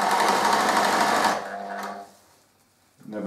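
A sewing machine stitches through the layers of fabric of a tea cosy with a rapid, steady mechanical whirr. It slows and stops, and after a pause there is a short burst of stitching.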